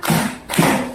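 Two separate hand claps in a classroom clapping game, each a short, firm, hollow smack, spaced about half a second apart, close and distinct with no talk.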